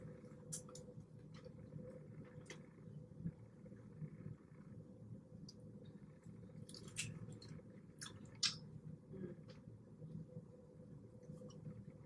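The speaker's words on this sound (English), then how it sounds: "as I was chewing on the little tips of the wing" Soft, close-up chewing and squishy biting on spicy Tabasco chicken wing tips, with a few sharp wet clicks over a steady low background hum and no talking.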